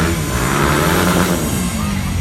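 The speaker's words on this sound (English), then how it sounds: "You hear that picking up some speed as he flies down to that far end." A BMW S1000RR sport motorcycle accelerating during a stunt riding show, its engine note droning steadily at moderate distance as it picks up speed across the lot.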